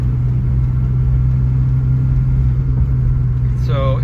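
A 1966 Ford Mustang inline-six with a swapped-in T5 manual gearbox pulls along in third gear, giving a loud, steady low engine rumble that holds without a break.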